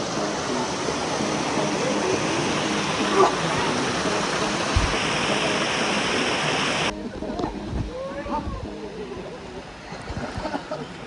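Steady roar of a waterfall in Mexico, loud and continuous broadband rush that drops to a quieter, more distant wash partway through, with faint voices over it.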